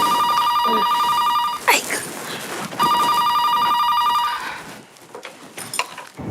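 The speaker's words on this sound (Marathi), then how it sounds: "त्या घरात फोन वाजला" A telephone rings twice in steady bursts, close and clear, with brief clatter and faint talk around the rings and a quieter room afterward.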